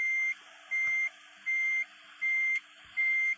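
Bus reversing alarm in Bus Simulator Indonesia: five evenly spaced electronic beeps, each about a third of a second long, repeating steadily over a low idling hum with no talk.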